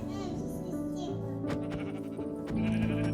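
A Minecraft sheep bleats repeatedly and close by, wavering calls overlapping with a steady background hum.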